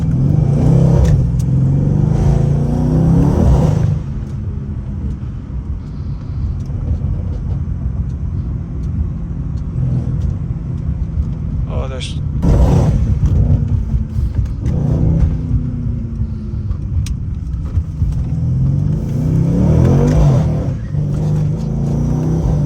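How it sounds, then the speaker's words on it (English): Stage 2 Mercedes C63 with traction control fully off, its engine droning loud and steady from inside the cabin, rising in revs and dropping back through quick downshifts across several swells. "Look how it downshifts immediately when I put it in that mode."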